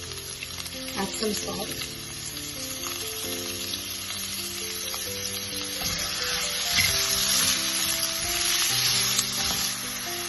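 Onions and green chilies sizzle and crackle steadily in a pan for a mutton stew, loud and close, with stirring scrapes and a voice speaking briefly over the frying.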